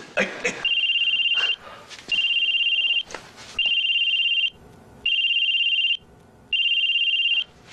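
A telephone rings loud and close in an indoor scene, sounding as five evenly spaced electronic tone bursts with short gaps and faint background noise between them.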